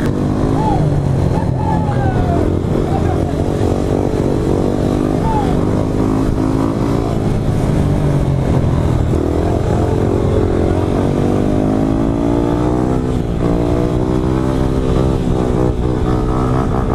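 Several motorcycles ride through a street in Holland, engines droning loudly up close with repeated revving surges and shifting pitches, as a group of bikes pass and blend together throughout.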